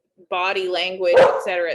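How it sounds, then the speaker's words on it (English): A pet dog barks at the mail carrier from somewhere in the home, a short sharp bark or two cutting in beneath a person lecturing steadily over it. "She's barking at the mailman."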